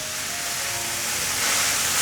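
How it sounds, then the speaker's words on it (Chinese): Enoki mushrooms stir-fried in a pan give off a steady, bright sizzle and hiss that swells slightly toward the end, with no talking over it. "快速翻炒，金针菇会出水"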